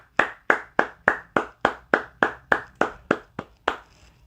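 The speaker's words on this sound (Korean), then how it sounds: "우리 이 3명의 졸업생을 위해서 저와 함께 박수로 축복하면서 우리 축하해 줬으면 좋겠습니다" A church congregation at a Korean Sunday service claps in unison for graduates, about a dozen crisp, evenly spaced claps close to the microphone, the last few softer and less regular.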